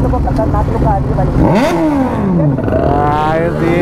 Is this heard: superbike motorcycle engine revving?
yes